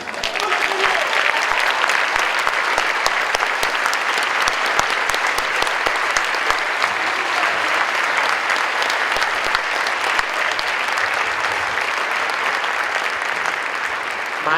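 An audience at an MLK celebration applauds steadily, dense clapping from many hands sustained for about fifteen seconds at an even level.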